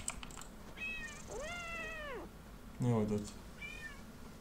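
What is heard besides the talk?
lynx cub meowing in video game Paws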